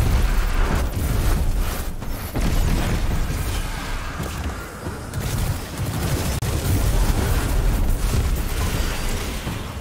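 Explosions in the video game Destiny 2: dense, loud blasts and booms tumbling over one another in a continuous barrage with scattered sharper bursts.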